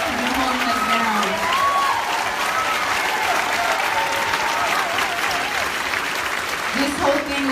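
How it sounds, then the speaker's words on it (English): Sustained applause from an audience at a live launch party, loud and steady throughout, with cheering voices and some shouting rising over the clapping. "give yourselves a round of applause"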